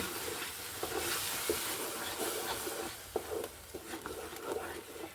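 Ground tamarind paste hitting fried onions in a pan, giving a continuous sizzle with scraping stir strokes and occasional soft clacks, fairly close.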